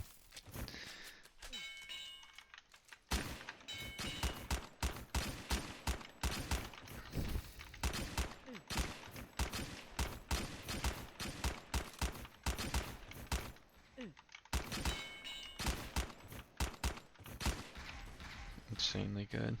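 Dragon Rifle gunfire in the online game Graal Online Era: rapid bursts of sharp shots in dense runs with brief pauses and metallic dings between them, with talking heard alongside.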